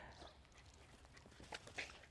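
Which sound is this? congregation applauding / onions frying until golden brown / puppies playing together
puppies playing together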